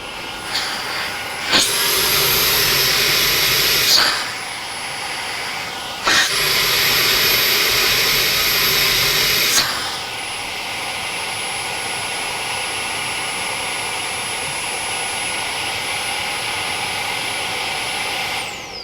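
A Roidmi X20 cordless stick vacuum cleaner runs on high with an adapter fitted, a loud steady whooshing whine that surges in two bursts and then settles into a continuous hum with a high thin tone.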